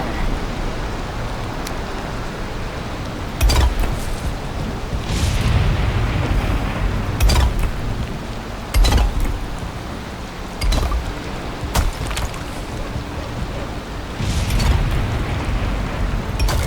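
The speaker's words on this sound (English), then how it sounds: "Come on, rain, let up." Steady rain in the Valheim game world, a dense broadband wash with intermittent loud booming impacts that could be thunder, heard alone without talk.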